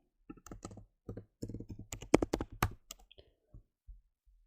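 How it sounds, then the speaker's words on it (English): A password being typed on a computer keyboard: a quick, irregular run of close, crisp key clicks in short bursts with brief pauses, fading to a few last taps, no voices. "I'm gonna type in the current password now, admin1234, and then I'll give it a new password"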